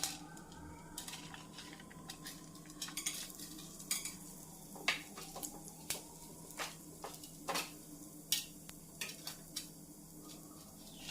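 Chana dal and peanuts frying in oil for lemon rice, with a soft sizzle under a series of sharp spoon scrapes and clinks against the pan as they are stirred, close and fairly quiet.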